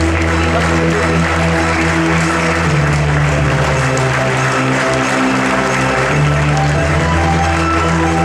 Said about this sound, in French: Merci d'applaudir le Clermont Foot.